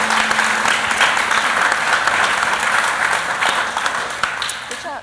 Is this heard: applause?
yes